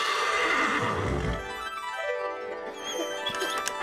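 A horse neighs loudly, a long whinny that rises and then trails off into softer, breathy snorts.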